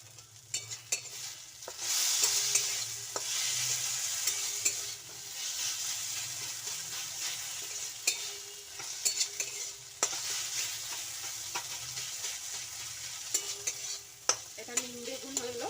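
Neem leaves frying with eggplant for nim begun bhaja, a steady close sizzle in a pan with occasional stirring scrapes and utensil clinks, no voices.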